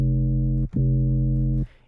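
A deep, heavily distorted 808 sub bass sustains in two long notes with a brief gap between them, buzzy and loud, then cuts off.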